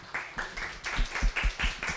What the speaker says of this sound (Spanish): solicito un aplauso para todos ustedes